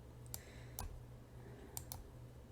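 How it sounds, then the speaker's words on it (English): A few isolated, sharp clicks of keys pressed on a computer keyboard, quiet and close, spaced apart over a low steady hum. "I think it's M on the keyboard to measure that."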